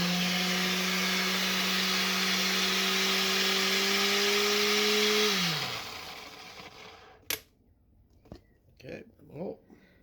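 A food processor whirs loudly and steadily while blending hummus, then its motor pitch drops as it winds down and stops, followed by a few sharp clunks and scrapes in near silence.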